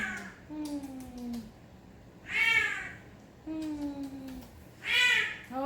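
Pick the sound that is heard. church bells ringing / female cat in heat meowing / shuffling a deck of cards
female cat in heat meowing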